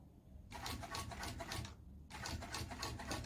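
A Jack sewing machine stitches fabric, with two bursts of fast, steady needle chatter split by a short pause, close and moderately loud.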